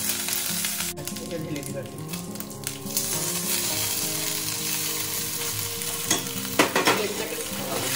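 Black mustard seeds and curry leaves frying in oil in a pan make a loud, continuous sizzle with some crackle and stirring clatter, while a voice speaks briefly over it.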